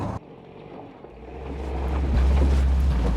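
A 1942 Willys MB jeep with its 2.2-litre side-valve engine turns over and settles into a low, steady rumble that swells as the vehicle pulls away, with wind buffeting the microphone throughout.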